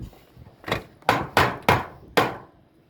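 Nails are hammered into metal wall flashing with five sharp, evenly spaced blows, loud and close, each ringing off quickly between strikes, with no talking.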